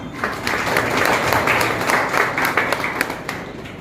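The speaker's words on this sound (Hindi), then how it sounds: "आप लोग अपने लिए ताली बजा लीजिए" Audience applause at a college inauguration ceremony for a new nursing and paramedical institute, a dense, steady clapping from a crowd with individual sharp claps standing out, sustained throughout.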